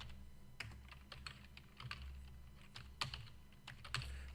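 Typing on a computer keyboard during a coding lesson, with irregular clusters of light key clicks, some sharper taps standing out, over a low steady room hum and no talking.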